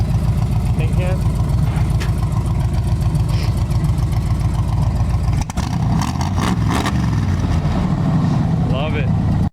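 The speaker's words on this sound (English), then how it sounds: "go ahead and rev it a little bit" Engine of a 1972 Chevy C10 custom pickup, already warmed up, rumbling loudly and close with brief revs, a throaty steady drone under occasional voices.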